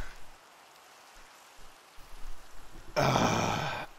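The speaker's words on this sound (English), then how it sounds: "And now it's raining." Steady hiss of rain in Minecraft begins abruptly partway through, loud and broadband after a quiet stretch with a few low grunting thumps.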